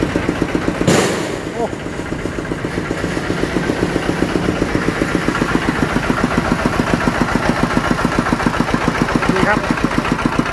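Kubota engine idling without load on a small Thai farm vehicle, a steady close rhythmic diesel chug with a sharp knock or clank near the start, then an even putter throughout.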